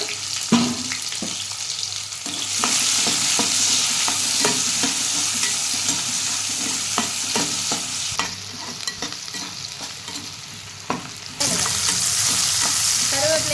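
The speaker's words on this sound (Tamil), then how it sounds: "வெங்காயம் வந்து கட் பண்ணி வச்சுருக்கேன் இப்போ சேர்த்துக்கலாம் இது நல்லா வதக்கிக்கோங்க" Cut onions sauté in a pan for a curry leaf chicken gravy, giving a loud, close, constant frying hiss with repeated scraping stirs and brief shifts in intensity, no voices.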